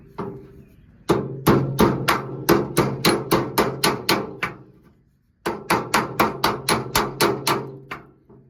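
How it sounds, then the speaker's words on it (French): Two hammers strike a dented car body panel, one held behind as a dolly while the other taps the front, giving close, loud, steady metallic blows in two bursts separated by a short pause. "je vais essayer de faire avec 2 marteaux, de mettre un marteau derrière et de taper de l'autre côté pour essayer de le redresser"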